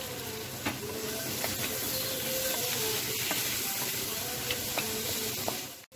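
Fried potatoes and pointed gourd being stirred in a hot pan, a steady broad sizzle with scattered clicks of the spatula scraping the pan throughout, close and even, without speech.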